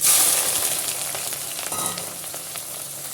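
Onions tipped into hot oil already frying cinnamon stick and bay leaf for a jeera samba chicken biryani, giving a steady close crackling sizzle throughout, loudest at the start then settling to an even hiss.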